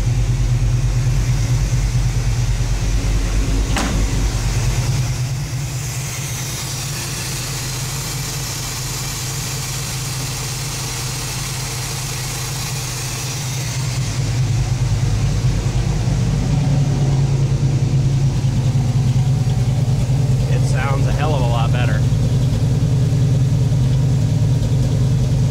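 A cold 5.7-litre TBI engine, unstarted for a couple of days, idles roughly on a high idle, a loud, steady, close rumble that drops slightly in the middle stretch before returning to full level.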